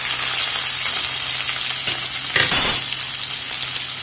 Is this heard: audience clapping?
no